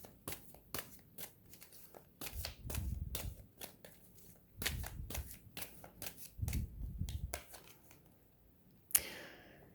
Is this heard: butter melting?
no